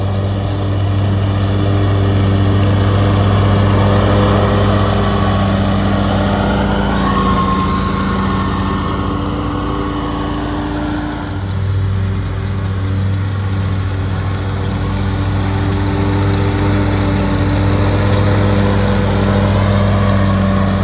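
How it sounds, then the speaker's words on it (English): A lawn mower runs steadily throughout while someone mows grass on a hilly lawn, a loud continuous engine drone with a brief dip near the middle. "so I can record Rachel mowing some."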